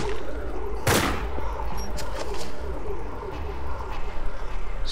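Sniper gunfire in the survival video game DayZ, one sharp loud shot near the start followed by fainter distant cracks over a rumbling in-game background, with a voice speaking over it.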